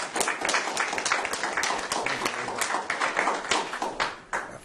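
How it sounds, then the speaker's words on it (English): Audience at an annual general meeting claps for Mark Bottom, dense steady applause with individual sharp claps standing out, fairly close and sustained throughout. "please join me in a round of applause for Mark Bottom"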